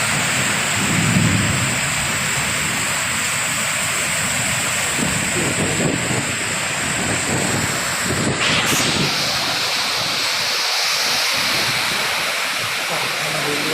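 Heavy rainstorm with thunder in Mahachai, a dense roar of pouring rain throughout with rumbling thunder, loud and continuous, and faint voices underneath at times.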